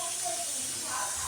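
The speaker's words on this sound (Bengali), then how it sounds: "আলু ভাজা হচ্ছে" Potatoes frying in oil in a pan while ghugni is being cooked, a steady dense sizzling hiss with no breaks, fairly faint and close.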